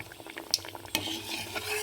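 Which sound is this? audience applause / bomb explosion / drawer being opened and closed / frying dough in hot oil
frying dough in hot oil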